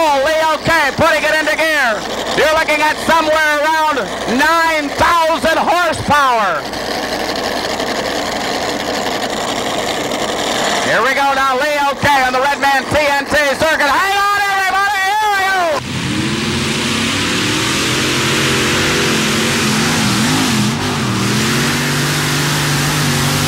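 A pulling tractor with five engines is put into gear at a 1987 tractor pull in Fishersville. It makes a loud, sustained roar with repeated rising and falling revs, and an announcer talks over parts of it.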